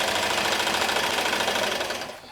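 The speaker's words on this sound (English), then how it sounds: "start your stitch a 1/2 inch in and sew all the way down" Sewing machine stitching together the ridge lines of a hammock tarp, a close, steady rapid mechanical whir that tapers off at the end.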